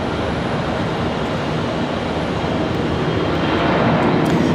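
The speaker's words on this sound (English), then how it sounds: "Got Southwest coming up in just a moment here after this CRJ departure" A CRJ regional jet departing from Charlotte Douglas airport, its engines a loud, steady broadband roar with no talk over it.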